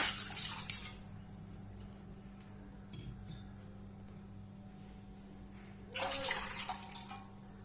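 Two bowls of water are poured into a pot heating on the stove for jeera rice, with a splashing pour at the start and another near the end and quiet drips between.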